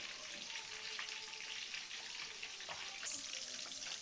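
Mutton meatballs fry in hot oil with a steady, close, crackling sizzle that stays even throughout, with a few brighter pops.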